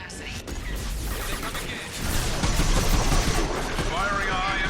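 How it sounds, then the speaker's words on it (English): Rapid gunfire crackles through a Mass Effect 2 fight aboard the Collector ship, bursts of shots and impacts layered over busy game sound, fairly loud and continuous. "Firing a high impact shot."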